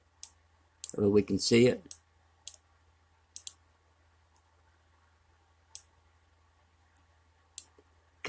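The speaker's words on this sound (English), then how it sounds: "Let me just click right into here" Computer mouse clicks, sharp, close and sparse, spaced a second or so apart over a quiet background, with a brief stretch of someone talking.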